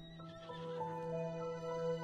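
A horse in the mobile video game Perfect World International gives a single drawn-out whinny, loud and tonal, lasting about two seconds with no other sound.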